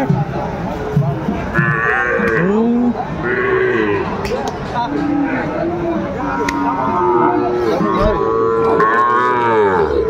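Several Sahiwal cattle moo at intervals in a busy livestock market, their long low calls overlapping with steady crowd chatter and voices nearby.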